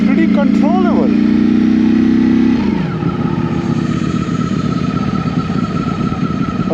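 A 2024 Ducati Streetfighter V4 motorcycle engine runs loud and close, holding a steady drone before the pitch drops and settles into a rougher, lower rumble.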